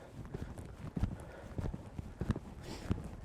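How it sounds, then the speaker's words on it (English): A horse canters over single ground poles during winter training, its hooves striking in a quick irregular clip-clop that is fairly faint and somewhat distant, with a faint background murmur. "I'm now going to just have a nice level canter, use my eye, down the two single blue poles"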